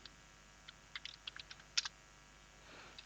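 Fingers tap out a short burst of keystrokes on a computer keyboard, scattered crisp clicks at close range in a quiet room, then fading to faint background hiss.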